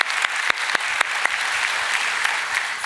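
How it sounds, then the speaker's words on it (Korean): A church congregation applauds its choir after a hymn, a full, even wash of many hands clapping, with a few sharper claps standing out, sustained and moderately loud with no speech. "그래서 격려 박수 한번 하겠습니다."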